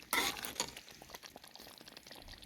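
Mint being stirred into a pot of mushroom yakhni, a sharp scraping stir up front and another soon after, then soft, irregular wet stirring and faint simmering with no voices.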